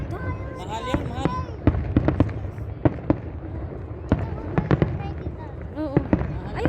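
Fireworks at a Saudi National Day celebration in Al Salam Park, Hail: sharp irregular bangs and crackling bursts going off repeatedly over a crowd murmur, with people chatting nearby throughout.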